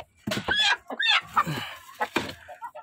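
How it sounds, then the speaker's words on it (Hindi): A broody hen kept for sitting on eggs clucks repeatedly in short, close bursts, with a few higher squawking notes mixed in. "ये वाली मुर्गी मैंने ली है"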